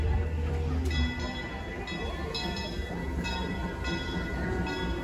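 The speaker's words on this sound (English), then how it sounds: "the railroad's coming in, the train's coming in" The Main Street railroad train at Disneyland pulls in: a rumbling rail roll with clanks and bell-like metallic pings, steady and fairly loud amid a busy park crowd.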